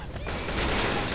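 Rapid bursts of gunfire from the zombie shooter game Left 4 Dead 2, a dense, loud continuous volley filling the short moment with no talk over it.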